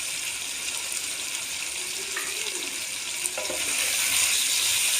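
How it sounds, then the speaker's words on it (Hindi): Chicken frying in a pan with green chillies added, a steady sizzle with a watery, hissing texture that swells a little louder near the end, no voices over it. "तीन मिनट हम इसको भूनेंगे।"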